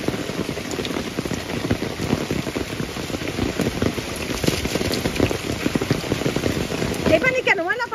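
Steady rain pours down outdoors, dense hiss of drops on surfaces running throughout at an even, fairly loud level, with a brief human vocal sound near the end.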